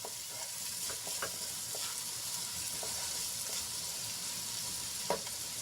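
Finely chopped onion sautés in a pan until pink, giving a soft, even frying hiss with light scattered stirring taps throughout, fairly quiet and without talk.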